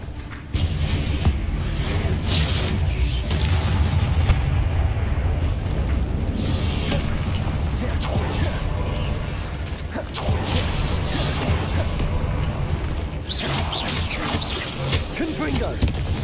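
Confringo blasting spell in Hogwarts Legacy going off amid combat, dense booming blasts and whooshes layered over steady battle noise and music, loud throughout.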